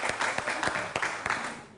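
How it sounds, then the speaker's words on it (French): Audience applause at a talk on sexuality in couples, a short burst of many hands clapping fairly close, with uneven pulses that fade toward the end. "Ah, ça s'applaudit."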